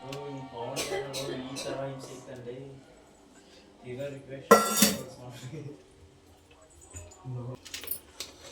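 Food being mixed with roasted onions in a pan, a spoon clinking and scraping against metal in scattered, close strokes, with someone talking between them.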